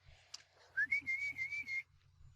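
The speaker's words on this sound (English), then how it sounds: "so she whistled" A woman whistles outdoors on a windy day to call dogs, a rising note followed by a run of short, clear, evenly spaced whistle pulses, moderately loud over faint wind rumble.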